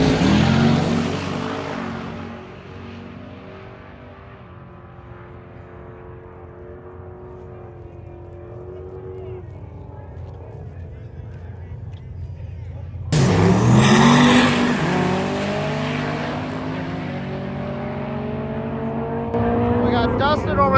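A drag race car at Sick Week idles and revs with a low rumbling tone, then launches loudly around the midpoint into a sustained, bright engine roar that holds to the end, with voices talking over it.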